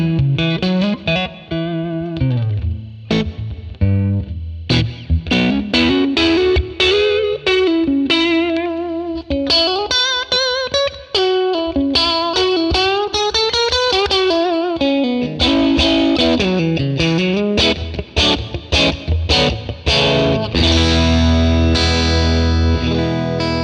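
Electric guitar played through a 1957 Tweed Bassman amp model gives a warm crunch with reverb, strummed chords and melodic single-note runs ringing out up close, with no talking.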